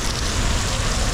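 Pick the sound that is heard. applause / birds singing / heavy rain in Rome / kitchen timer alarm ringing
heavy rain in Rome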